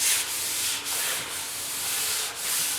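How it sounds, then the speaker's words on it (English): Fine sandpaper scuffs lightly over a primed steel truck bed panel on a 1956 Mercury pickup, soft close hissing strokes with brief pauses between passes. "just a nice light little scuff, and it makes all the world of difference when it comes to your finish"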